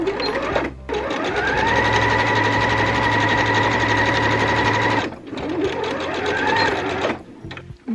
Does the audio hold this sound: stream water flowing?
no